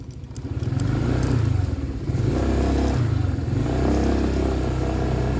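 Skygo Lance 150 motorcycle ridden slowly along a rough trail over tree roots, engine close and loud with uneven throttle, rising and dipping revs and some clatter.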